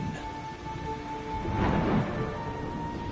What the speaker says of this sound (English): The rain pouring from the heavens caused a terrible flood.